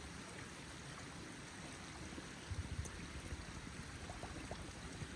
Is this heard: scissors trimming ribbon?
no